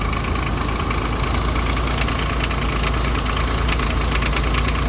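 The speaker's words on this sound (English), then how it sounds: "Besides the fucking weird idling issue." A Ford Ranger engine idles roughly with an uneven knock, a steady, continuous mechanical rumble heard up close with no talk over it.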